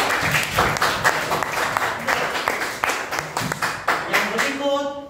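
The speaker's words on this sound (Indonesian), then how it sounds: "Oke, kita berikan tepuk tangan untuk kelompok 1." A small group claps steadily for about five seconds, close and lively, then the clapping stops.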